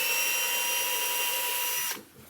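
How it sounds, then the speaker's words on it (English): A power drill pre-drills a hole for an electronic push-button lock, whirring at a steady pitch for about two seconds before stopping abruptly, leaving a faint hum. "All right, now you pre-drill the hole."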